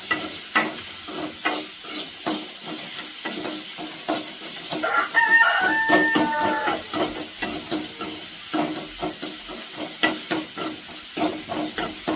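Onions fry in a pan while being stirred, crackling sizzle broken by repeated scraping stir strokes in an uneven rhythm, with a rooster crowing briefly in the background midway; no talk.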